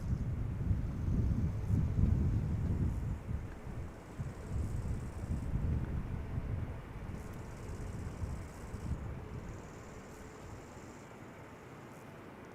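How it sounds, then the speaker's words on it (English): A steady breeze buffets the microphone outdoors at Amsterdam Schiphol Airport. It makes a soft, rumbling wind noise that swells and eases in gentle gusts, with no talking. "A little bit of a breeze once again"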